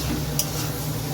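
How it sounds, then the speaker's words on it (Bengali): Onions and mixed vegetables frying in a pan, a continuous close sizzle with a low steady hum beneath and a faint clink of utensil near the middle. "এই যে এখানে সব পেঁয়াজ সবজি সব ভাজতে দিয়েছি"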